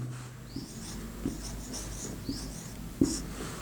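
Quiet scratchy strokes of writing the word joule on a board during a physics lesson, several short bursts spread across a few seconds with no talk.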